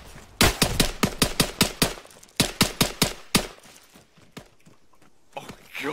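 Gunfire in the Arma 3 co-op video game, set in a town: a rapid volley of loud, close shots, a short pause, then a second burst ending in a single shot before fading to quiet.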